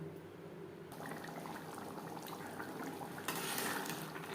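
Chana masala simmers in water from boiled chickpeas with mutton fat, a soft continuous bubbling and faint stirring heard close up, growing slightly louder toward the end.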